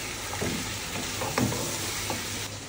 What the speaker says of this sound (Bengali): মশলাটা কষানো শেষ, এখন দিয়ে দিব মাংসগুলো